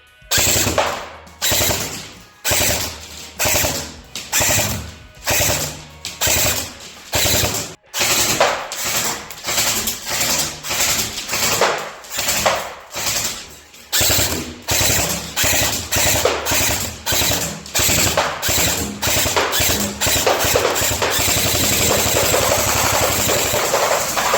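A Double Bell M16A4 airsoft electric rifle fires full automatic in repeated long bursts, a loud rapid mechanical buzzing rattle with brief gaps between strings, close by, ending in a longer continuous run.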